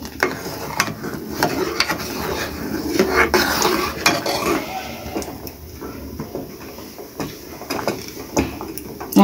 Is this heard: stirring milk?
yes